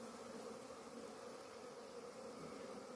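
Small colony of bees gathering around a nuc box baited with lemongrass oil, giving a steady, dense outdoor buzzing drone that holds evenly throughout with no talking.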